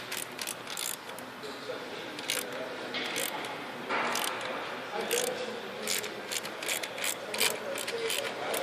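A ratchet wrench tightening bolts with an extension, giving a run of quick, close clicking strokes in uneven bursts, with faint talk at times.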